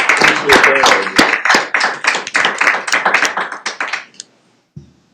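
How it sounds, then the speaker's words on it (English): Audience clapping at a county board meeting, a close, loud burst of many hands that runs about four seconds before stopping abruptly, followed by a brief low thump. "I think we should give him a clap, shouldn't we?"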